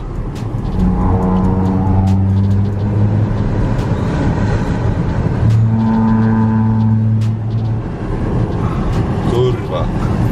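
A voice imitates a car's roaring exhaust while revving, rising in pitch in stepped, sustained bursts, twice in succession, loud and close.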